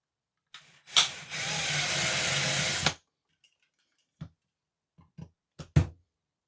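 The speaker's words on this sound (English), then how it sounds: "So we've got 2 rivets to drill out, so I'll get the drill set up" A small power drill whirs steadily for about two seconds as it drills out rivets on a diecast Corgi model. A few sharp clicks and knocks of handling follow close by.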